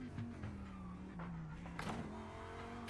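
BMW race car in the iRacing simulator at Spa, engine note droning and shifting pitch through gear changes, with brief tire squeal, fairly faint and continuous.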